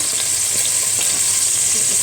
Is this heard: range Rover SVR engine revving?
no